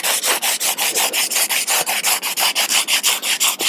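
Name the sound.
sanding excess resin off a surfboard with 80 grit sandpaper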